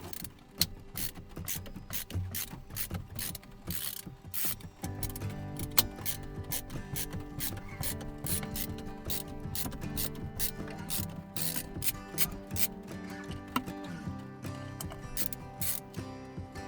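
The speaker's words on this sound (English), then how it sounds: "grab my screwdriver and get this thing removed" A screwdriver ratchets with rapid, repeated clicking while screws are backed out of a Maxxair roof fan. The sound is close and fairly faint, running steadily with a few louder clacks.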